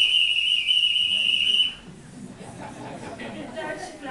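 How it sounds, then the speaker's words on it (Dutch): A Dutch railway station conductor's whistle is blown indoors at a book presentation in Aalten, giving one steady, shrill sustained blast of nearly two seconds before it cuts off into quiet room murmur. "Het Hollandse fluitje."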